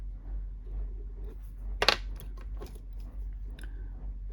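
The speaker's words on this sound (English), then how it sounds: "I'm going to snip that" A single crisp scissor snip cuts the cable of a Motorola GP380/680 remote speaker mic, close and sharp, followed by a few faint handling clicks over a low electrical hum.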